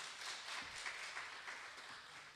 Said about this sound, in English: Let's give a big round of applause for this international conference